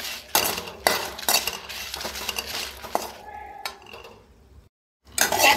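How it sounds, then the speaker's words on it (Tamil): Crushed garlic, three cloves, being dry-roasted and stirred in a pan for homemade rasam powder, with repeated scraping and clinking of a utensil against metal, a brief pause, then more stirring close up. "ஒரு 3 பூண்டை இடித்து வச்சுருக்கேன். அதையும் நம்ம வறுத்துக்கலாம்."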